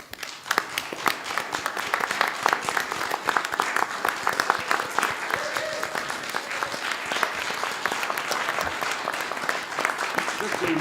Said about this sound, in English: But I want to applaud you again.